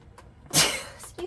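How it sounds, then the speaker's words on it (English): A woman lets out a single sharp sneeze at home, close and abrupt, with a faint breath before it and a brief trailing exhale after. "I'm gonna sneeze."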